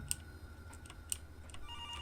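A faint electronic phone ring in Garry's Mod chirps in short repeated bursts over a low background hum, with no one speaking.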